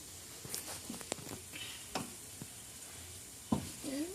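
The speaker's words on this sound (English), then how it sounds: "And stir it." Ground pork stirred in a pan for a kid-friendly lasagna, with a few scraping utensil strokes over a soft sizzle and no talking.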